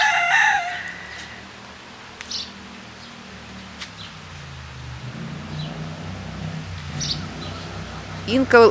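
A hen in a backyard garden gives clucking calls announcing freshly laid eggs, with a drawn-out cackle at the start and brief clucks later, moderately near, while a person talks over much of it.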